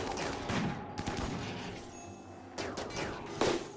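Gunfire in the RimWorld colony game as a colonist fires on a target: scattered shots and bursts over a steady low background, with a stronger report near the end.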